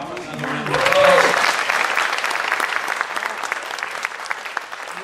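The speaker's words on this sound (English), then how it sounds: "Allow another round of applause." Audience applause swells at a spiritual living center gathering, rising quickly to a full round of clapping and then holding steady, with a voice briefly over the start.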